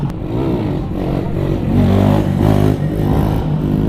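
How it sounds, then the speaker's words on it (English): A stunt motorcycle at a Myrtle Beach stunt show revs its exhaust in a busy, throaty burst with rising and falling pitch, close and fairly loud, with some clattering mechanical noise mixed in. "I kind of like the exhaust on it. It's not super loud."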